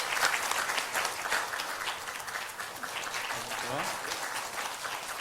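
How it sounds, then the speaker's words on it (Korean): A church congregation applauds, dense continuous clapping from many people filling the hall throughout, with faint voices underneath. "여러분 큰 박수 부탁드립니다."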